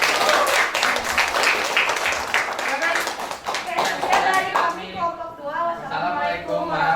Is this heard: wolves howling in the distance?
no